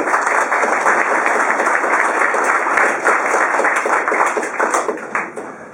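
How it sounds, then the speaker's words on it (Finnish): Enthusiastic applause from a crowd at a charity fundraising handover event, dense continuous clapping that holds steady and then begins to taper off near the end. "Annetaan näille myös aplodit."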